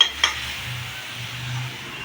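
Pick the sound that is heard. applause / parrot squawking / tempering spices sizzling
tempering spices sizzling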